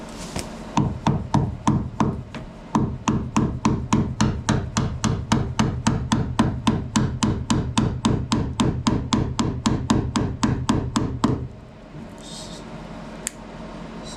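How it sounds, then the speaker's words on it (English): Rapid, steady sharp tapping as Bondo body filler is chipped off a Toyota JZX81 fender, dozens of evenly spaced close strikes for about eleven seconds before stopping. "we'll get to chipping away the Bondo on this side"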